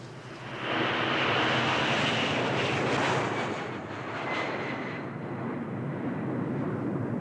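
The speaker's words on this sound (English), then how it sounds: "it's a plane." An airplane passes with a steady, loud roar that swells and then eases slightly, a broad engine drone with no voices, in a 1987 mystery film.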